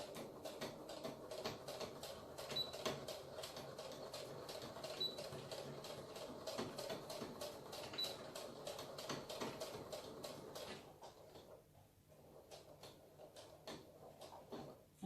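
A sewing machine stitches a fabric face mask in a fast, steady mechanical whir of rapid needle ticks, running continuously close up before slowing and stopping near the end.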